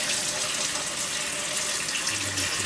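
Hot water runs steadily from a tap, filling the space with an even, close rushing hiss while a hydro-dipped guitar part is rinsed.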